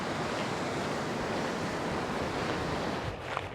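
Surf breaking steadily on a beach where people fish, a broad continuous wash close by with some wind noise on the microphone and no speech.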